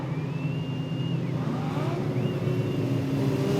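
Modified sedans roll around Cairns Speedway before the race start, giving a steady, continuous engine rumble from several cars at moderate distance with no sharp revs.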